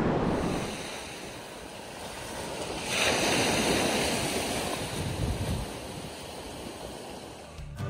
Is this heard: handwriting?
no